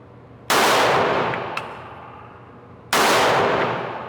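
Two loud, sharp gunshots from a Sig Sauer P211 GTO pistol, spaced about two and a half seconds apart, each a sudden close crack followed by a long decaying echo, with a small metallic click between them.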